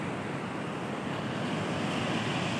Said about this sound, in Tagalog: sobrang lakas ng alon yung mga bangka dito hindi gaanong makalakihan